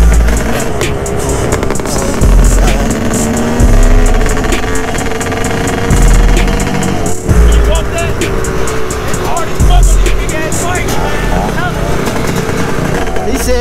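Dirt bike engine revs hard and repeatedly in loud, rising bursts during wheelie attempts, close and dominant, with people talking over the engine noise.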